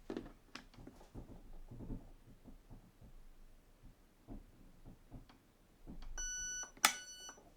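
Electronic beeps from a Specna Arms HAL ETU airsoft gun trigger unit, a short burst of high tonal bleeps near the end after quiet handling clicks and faint background noise.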